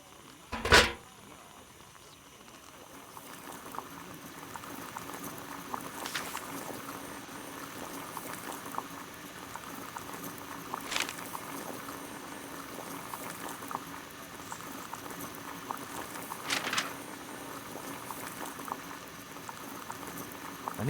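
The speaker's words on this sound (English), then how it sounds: "Boil water in kettle." Water boils in a kettle in Sherlock Holmes: The Devil's Daughter, a steady bubbling rumble running throughout with a few sharper clicks and clatters, no voices.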